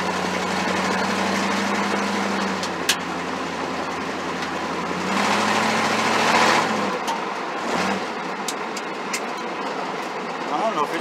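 An old Pontiac Firebird, driven for the first time in 26 years, runs with a steady low engine drone that swells briefly mid-drive and then drops lower, with road and mechanical noise around it.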